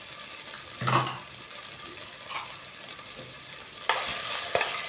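Broken wheat and coconut powder sizzle softly in a new pan with masala while being mixed, with scraping stir strokes that come in bursts over a steady low frying hiss.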